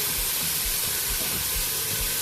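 Wildebeest mince sizzling in a hot pan, a steady bright hiss with soft low thumps and pops underneath, close and continuous.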